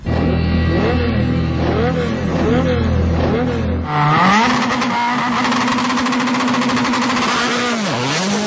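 Rally car on a special stage at Rally Norway 2007, a loud close engine revving up and down through gear changes, then a sustained high-pitched roar as it accelerates past.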